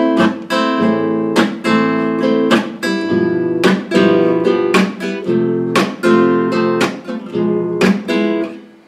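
Rumba strumming on an acoustic guitar, a pattern with two muted stops: bright, percussive strums hit in a lively repeating rhythm, with sharp damped chops between the chords, close and loud, no talking.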